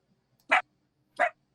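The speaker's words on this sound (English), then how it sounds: "Because my dog's going to go nuts because I'm leaving the play area." A dog gives two sharp, loud barks close by, about two-thirds of a second apart, against an otherwise quiet background.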